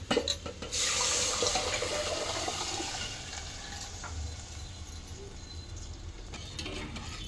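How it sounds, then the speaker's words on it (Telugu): Water runs in a steady, rushing stream as it is poured into a pot, close and continuous, with a brief clatter at the start. "ఎంత నీళ్ళు కావాలనో అంత నీళ్ళు పోసుకోండి"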